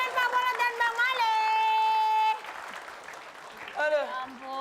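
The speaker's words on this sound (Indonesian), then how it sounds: "Oke, tepuk tangan sekali lagi." Studio audience applause at an Indonesian television comedy show, a broad clatter of clapping mixed in with sustained voices and chatter, moderately loud and close.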